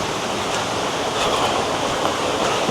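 A mountain stream on Mt Makiling rushes steadily through the forest, a broad, constant watery hiss that stays close and even, with no voices over it.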